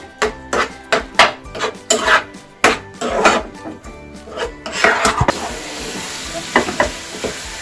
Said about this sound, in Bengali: এটা এবার আমি ভালো করে নাড়াতে থাকবো যতক্ষণ না এটা ভালো করে মিশে গিয়ে একটা পাক তৈরি হয়